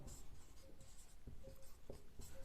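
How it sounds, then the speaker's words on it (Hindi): Chalk writing on a classroom board during a Hindi grammar lesson, a series of short scratchy strokes and taps in an uneven rhythm, fairly quiet and alone without speech. "फिर उसी तरह से लिखते हैं, राम पुस्तक पढ़ता है।"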